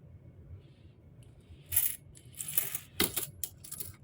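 Small Philippine coins, from 10 centavo to 1 peso pieces, clink and jingle as they are handled, bright metallic chinks in a few close clusters over a quiet background.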